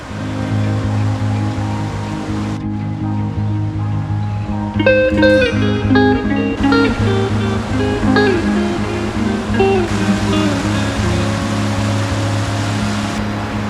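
A river runs beside the Alum Cave Trail in Great Smoky Mountains National Park, a steady, loud rushing wash of water that continues unbroken throughout with no voices.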